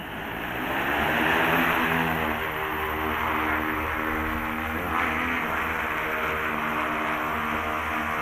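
An agricultural spraying drone lifts off at a training session, its propellers whirring in a loud, steady drone that swells during the first seconds and then holds close by, with no talk.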